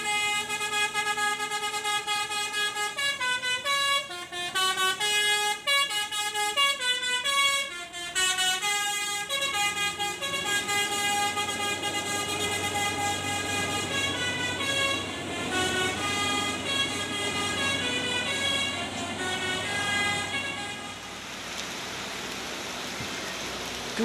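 Gumarang Jaya bus sounding its musical basuri horn on the steep, winding Sitinjau Laut mountain road toward Padang in rain: a loud, near melody of bright tooted notes in quick rising and falling runs, followed by sustained tones.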